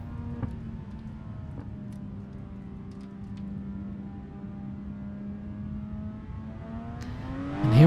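A car engine in a racing sim held in first gear, a steady low drone with harmonic tones that swell into a rising rev near the end, fairly close and clear.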